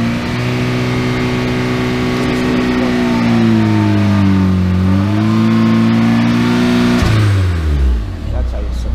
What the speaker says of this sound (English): When it starts grabbing, now give it the gas.